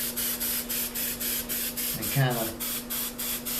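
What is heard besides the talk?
spray paint can spraying black paint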